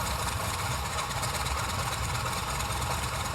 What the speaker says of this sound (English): I kind of like the engine sound. It kind of rumbles right now.